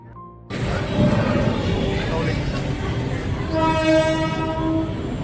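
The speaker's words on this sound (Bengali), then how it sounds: "মালগাড়ি তো এটা" A freight train rumbles past close by at a railway station platform, a steady heavy roar with a horn sounding briefly, then sustained tonal squeals from the wheels near the end.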